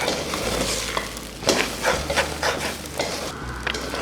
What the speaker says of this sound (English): I'm going to stir for about a minute or so